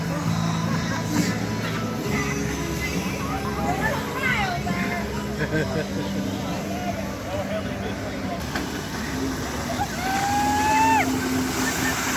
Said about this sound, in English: Just another day out on the neighbor's houseboat.